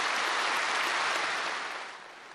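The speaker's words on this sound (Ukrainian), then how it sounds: "Це рішення зала зустрічає оплесками" A hall audience applauds a presidential candidacy announcement, a thick, even roar of many hands that holds strong and then gradually fades toward the end.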